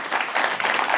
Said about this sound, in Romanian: Andrei Sentin, aplauzele dumneavoastră!